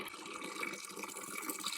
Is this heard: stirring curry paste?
no